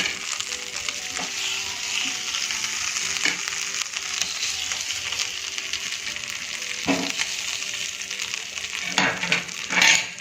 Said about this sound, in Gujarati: બધી જ મકાઈને આ રીતે મસાલા સાથે આપણે ફ્રાય થવા દઈશું.